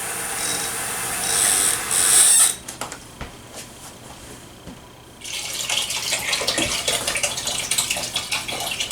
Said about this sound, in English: I'm going to throw some water in here.